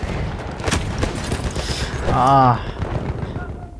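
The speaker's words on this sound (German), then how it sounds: "Granate ist raus, hör zu!" Battlefield 1 combat at Fort Vaux rumbles with dense gunfire bursts and a heavy blast-like swell, loud and sustained, while a voice briefly cries out mid-way.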